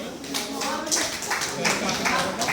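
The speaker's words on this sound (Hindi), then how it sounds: "इतनी ढीली तालियां" Teachers clap loosely and unevenly in a room, a soft patter of hand claps running under continuous talking.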